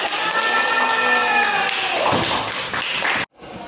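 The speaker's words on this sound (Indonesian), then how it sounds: "Tepuk tangan untuk Ismi." Schoolchildren clap together in a multi-grade elementary classroom, a dense burst of hand claps with voices mixed in, cutting off abruptly near the end before a quieter tail.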